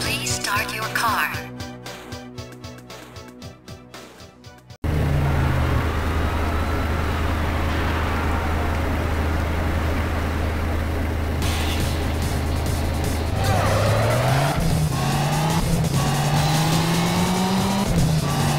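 Car in the arcade racing game Thrill Drive, starting after a burst of clicking menu sounds, then a loud steady engine roar as it races, with rising revs and tire squeals toward the end.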